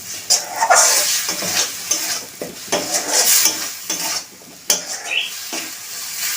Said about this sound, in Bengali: এটার যতক্ষণ না জলটা একটু শুকনো আছে ততক্ষণ আমি নেড়ে যাব